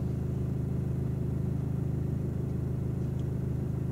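A learner driver's car engine holds a steady low idle with a slight raised hum as the gas is set, a continuous close drone with no talk over it.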